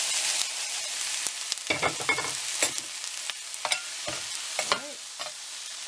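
Onions and peppers sizzle in a hot frying pan while being stirred, with a soft steady frying hiss broken by repeated scraping strokes of the utensil, and one brief spoken word.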